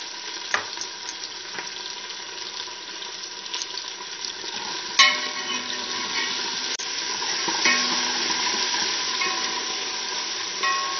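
Onions browning in a pan with garlic added, a continuous close sizzle with a few sharp spatula knocks and stirring scrapes.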